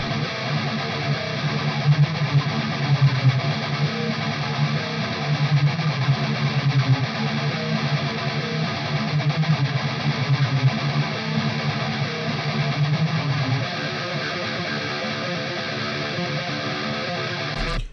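Distorted electric guitar from plugin presets plays continuously, a buzzy, somewhat thin-sounding tone with chugging lower notes, loud and alone without voices.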